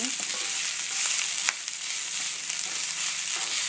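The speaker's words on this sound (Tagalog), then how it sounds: "nagluluto ako ngayon ng sinangag" Garlic fried rice sizzling steadily in a pan, a dense, even frying hiss close by with a few faint scrapes and no talk.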